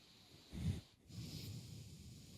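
A voice imitates heavy, snorting breaths: one loud rasping exhale followed by a longer wheezy breath, close and alone.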